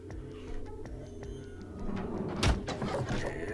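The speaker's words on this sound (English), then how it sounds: "Door at the end of the room slowly ground open." A heavy door at the end of a room slowly grinds open, a long low rumble with a sharper scraping burst near the end, set against a dense, busy background.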